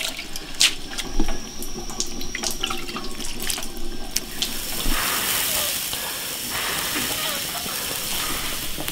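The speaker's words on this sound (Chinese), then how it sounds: "冲一盆河水，终于把它洗干净" River water from a basin being splashed and run over a pig stomach while washing it, with irregular sloshes and drips followed by a steadier pouring rush, close by.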